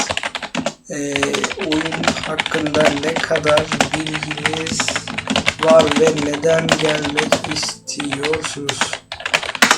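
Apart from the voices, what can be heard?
computer keyboard typing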